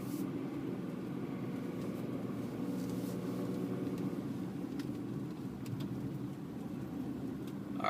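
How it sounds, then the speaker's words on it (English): Land Rover LR2 (Freelander 2) with a Volvo engine on a test drive, a steady low engine drone and road rumble inside the cabin, constant and moderately loud with no talk. "Nice Volvo engine."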